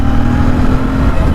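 A Royal Enfield Bear 650 motorcycle engine running while riding in third gear, a loud, steady low rumble with continuous wind buffeting and no talking.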